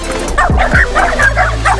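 Several dogs bark and yip close by in a short run of sharp, repeated woofs, with a low steady rumble running underneath.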